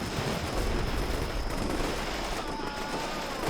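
Sustained battlefield gunfire from the Combat Mission Shock Force 2 war game, a dense, continuous rumble of shots and distant blasts with no clear breaks, heard steadily throughout.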